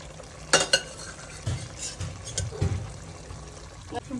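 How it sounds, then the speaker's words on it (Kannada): Brief splashy pours of boiled water by the glassful into a pot of rice for biryani, with light clinks, in short bursts spread over a few seconds, no voices. "ಬೇಯಿಸಿಟ್ಕೊಂಡಿರೋ ನೀರನ್ನು ಒಂದು ಗ್ಲಾಸ್ ಹಾಕ್ತಿದ್ದೀನಿ"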